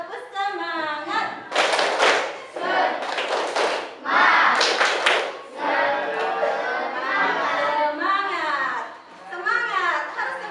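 A classroom of children claps a rhythmic spirit cheer during a maths lesson, with several loud bursts of clapping in quick patterns, mixed with chanting and voices.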